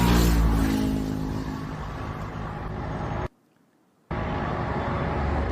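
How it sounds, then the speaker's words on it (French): Dense road traffic on the roads out of Tehran, Iran, as residents leave the city: a steady roar of cars, trucks and buses driving close by, broken by a brief near-silent gap before the engine noise returns. "La circulation est très dense,"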